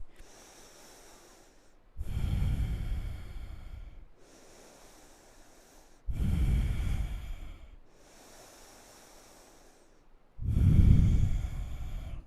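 Three slow, deep breath cycles held through a yoga pose, each a quiet airy inhale followed by a louder, rough exhale through the nose and mouth, close to the microphone and evenly paced, with no talking.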